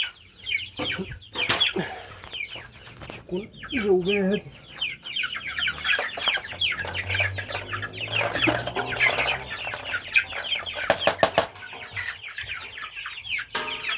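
Australorp chicks clucking and cheeping steadily while given onion and garlic, a busy flock close by with someone speaking over them.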